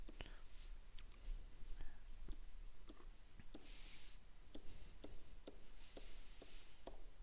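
Pen or pencil writing out a math equation on paper, a run of quiet scratchy strokes and soft taps in an irregular rhythm, close up, with faint murmured speech underneath.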